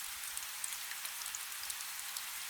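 Steady rain drums on a roof and patters softly against thick glass windows, a faint, even hiss sprinkled with scattered brighter drop ticks, with no voices.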